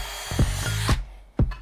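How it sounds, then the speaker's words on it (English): A power saw cuts holes in a wooden stair, with short bursts of motor whine and cutting noise broken by pauses, close and fairly loud with no talking. "attaches the template to the stair before sawing round the outside to make each hole"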